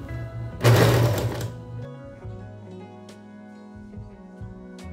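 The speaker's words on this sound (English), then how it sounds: "I hemmed the top of the off-shoulder dress, both the front and the back, and started shirring." Sewing machine shirring the top of an off-shoulder dress, a loud steady burst of stitching for about a second, then quieter running hum with small clicks.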